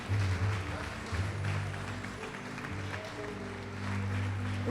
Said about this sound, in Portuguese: Vamos aplaudir bem forte o Senhor Jesus